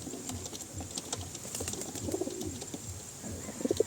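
Racing pigeons in a loft give soft, repeated throaty coos over a faint background of scratching and shuffling, quiet and close by.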